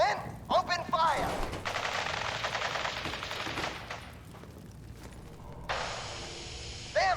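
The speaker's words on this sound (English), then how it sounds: "Stop or we'll shoot. Men, open fire." Enemies open fire in Fallout 4 with rapid, sustained gunfire, a dense rattling volley lasting several seconds, while a voice speaks over it near the start and a second burst comes near the end.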